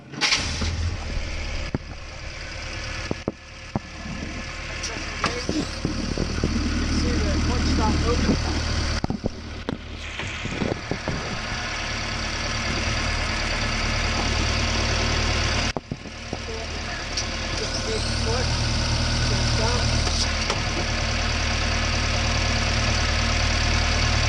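1953 Willys CJ3B jeep engine turning over and settling into a steady, loud, rough idle with knocking mechanical clatter that runs throughout, close up, while someone talks over it.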